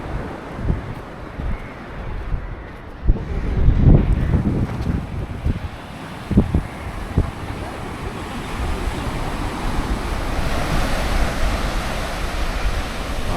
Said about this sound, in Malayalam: ഈ കടൽ ഇങ്ങോട്ട് കയറി വരുന്നുണ്ട്.